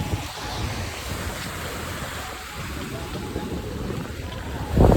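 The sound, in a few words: sea waves against a seawall at Fort Kochi beach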